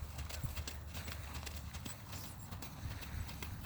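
A young horse, only a few months under saddle, trots in a rider's posting-trot lesson, hooves clip-clopping in a quick steady rhythm under a constant noisy background, faint and somewhat distant.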